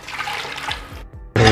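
Water gushes into a pot of chicken biryani during cooking, a short rushing pour that cuts off briefly and then surges back louder.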